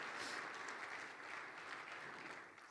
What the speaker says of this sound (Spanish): Denle un fuerte aplauso a los niños.